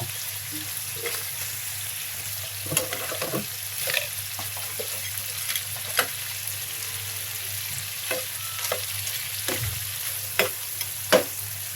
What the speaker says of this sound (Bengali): এখন নেড়েচেড়ে সবগুলো সুন্দর করে দিয়ে একটু ঝোল দিয়ে দিব, পরে ঢেকে দেব।